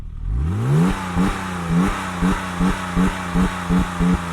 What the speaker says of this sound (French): Fais rugir ton bolide.